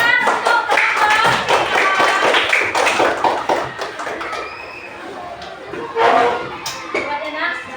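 A classroom of students claps for a student group in a burst of scattered, close applause that fades and then briefly swells again, with a teacher's voice heard speaking over it.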